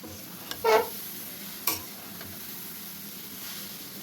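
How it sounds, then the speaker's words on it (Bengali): A sticky sesame, rice and coconut mixture is stirred in a wok over low background hiss, with a couple of brief scraping strokes, one longer and one short, and otherwise quiet gaps. "এখন এটা আমি হচ্ছে কড়ার উপর দিয়ে অনবরত নাড়তে থাকবো"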